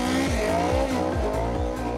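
A historic racing car roars loudly on the hill climb course at Goodwood Festival of Speed, its engine note sweeping up and down repeatedly with tire noise, close and continuous.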